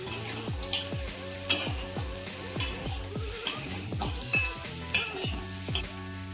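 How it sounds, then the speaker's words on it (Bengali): Mixed vegetables and lentil dumplings (bori) being stirred in a pan for a pure-veg mixed vegetable curry, with repeated scraping strokes of a utensil in a steady rhythm over a soft background sizzle, close and fairly quiet. "এবার ভালো করে সব সবজিগুলো একসঙ্গে মিশিয়ে নেব।"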